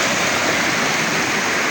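Rushing floodwater after a typhoon on the road to Tandag City, a loud, steady, roaring torrent filling the whole clip with no talk.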